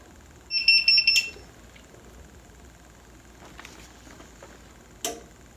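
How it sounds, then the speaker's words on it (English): A heat press gives a quick run of high electronic beeps once near the start, followed by faint clicks and handling noises in a quiet room. "and then when it beeps you pick it up."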